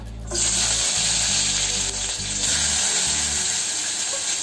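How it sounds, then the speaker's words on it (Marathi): Onion and tomato hit hot oil with a loud, steady sizzle that bursts in abruptly and holds close and continuous, with a faint low hum beneath. "आता तेल तापलेलं आहे. मी यामध्ये कांदा आणि टोमॅटो घालणार आहे."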